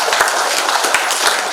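A crowd at an Islamic gathering breaks into brief applause for the kiai, a short burst of dense clapping lasting just over a second.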